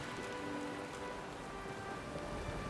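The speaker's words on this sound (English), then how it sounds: "The rain drums against the deck." Rain drums steadily on a ship's deck in the fantasy game Pillars of Eternity II: Deadfire, a constant even hiss and patter that holds at the same level throughout with no voices.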